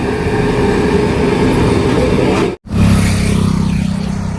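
A train passes a railway crossing at Visnagar in Gujarat, a loud, steady rolling rumble with a continuous wash of wheel and carriage noise close by, broken by one brief drop midway.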